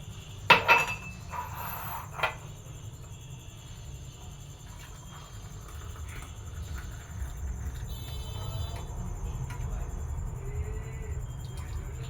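Tea being poured into cups at home, with a few sharp glassy clinks close by in the first couple of seconds, then a soft, steady wash of pouring and room noise.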